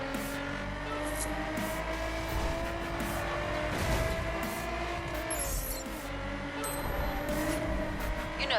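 A car speeds along with nitro in the video game The Crew, engine roaring steadily at high revs with tire noise and faint squeals, loud and continuous, no voices over it.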